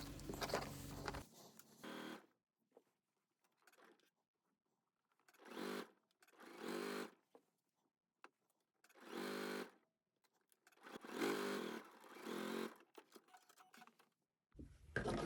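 A sewing machine stitches the yoke seam of a denim skirt in several separate short runs of close, rapid whirring, with quiet pauses between them. No speech.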